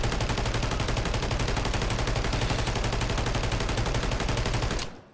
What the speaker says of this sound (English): We're gonna shoot the gun and not hold the joystick.